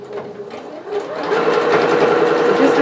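Close, steady whirring of a sewing machine stitching apron fabric around a curve, quieter at first and then running louder and continuously with a dense mechanical rattle.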